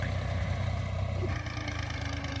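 A tractor idling close by on a Punjabi farm field, a steady low throbbing chug with an even rhythm that holds throughout, with no talking.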